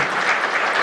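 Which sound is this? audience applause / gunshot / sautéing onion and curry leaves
audience applause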